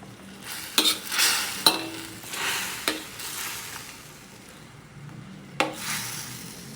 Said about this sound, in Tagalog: Haluin muna niya.